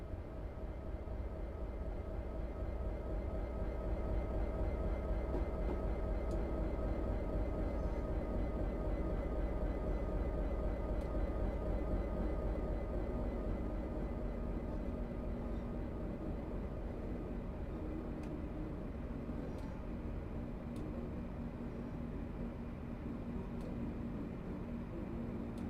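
A Class 156 diesel multiple unit runs from Appleby to Carlisle in Train Simulator, a steady low engine drone with rhythmic rail rumble and faint clicks, continuous and close, with no talk.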